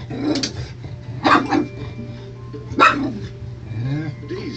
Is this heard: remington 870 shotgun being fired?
no